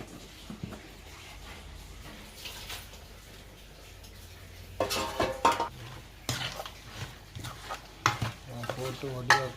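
Fish curry with chili powder being stirred in a pot in a Jaffna village kitchen, oil-free; soft simmering sizzle with scraping and clanking spoon strokes, close up.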